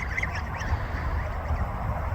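Several ducks and geese quack and honk faintly at a distance over a low, steady outdoor rumble.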